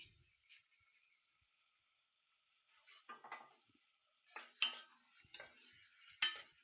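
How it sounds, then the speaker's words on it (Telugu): Ginger-garlic paste frying in a pan for a broad bean and tomato curry: quiet stretches broken by short bursts of spatula scraping and clinks against the pan, the last ones sharper. "ఇది పచ్చివాసన పోయేదాకా వేపుకోవాలి"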